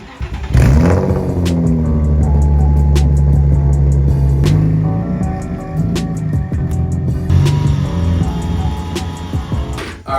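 A Nissan 350Z driven in and revving, its engine note rising and holding loud and close for several seconds before easing off, with no talking.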